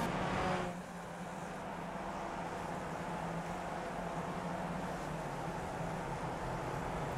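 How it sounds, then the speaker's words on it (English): Steady engine roar from inside a moving race car on track at Summit Point among a pack of cars, a continuous loud drone that holds at one level throughout. "Big gaggle of cars in front of us here."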